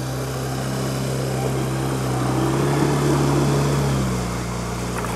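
A 20 hp outboard motor pushes a Sib River Allaska-520 PVC inflatable boat onto plane, giving a loud, close, steady drone whose pitch and strength rise midway, then ease slightly.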